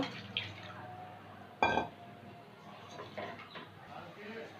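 Rinse water from a bowl that held strained mustard paste is poured into a pan of simmering parshe fish curry, making a single short splash in the middle of a quiet kitchen background.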